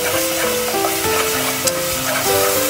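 Meat frying in hot, spattering oil gives a loud, continuous sizzle, with music playing over it.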